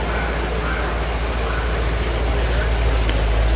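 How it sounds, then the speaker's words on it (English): Trucks lining up at the Mecum auto auction in Kissimmee give off a steady, loud low rumble of idling engines and road noise that holds even throughout. "Here's the trucks getting lined up."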